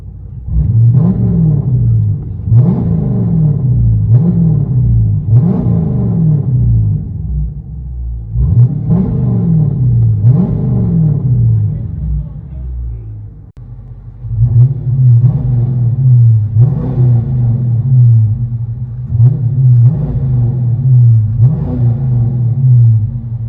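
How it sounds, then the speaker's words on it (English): A 2015 Dodge Charger R/T with a 5.7L HEMI V8 and cold air intake revs repeatedly from inside the cabin, loud deep rumbling swells rising and falling in steady bursts with a short lull midway. "Dodge Charger 2015 HEMI."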